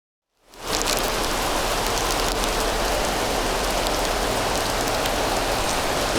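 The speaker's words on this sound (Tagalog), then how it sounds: "Ayun na nga, lumakas pa yung ulan" Heavy rain pouring down, a loud, dense, unbroken roar of drops that swells in quickly and holds steady throughout.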